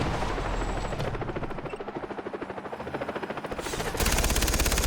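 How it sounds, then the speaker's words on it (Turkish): Helicopter in the video game Far Cry 3, a rapid chopping rotor pulse that swells and grows louder as it approaches, mixed with bursts of game gunfire. "Ne oldu helikopter mi geliyor?"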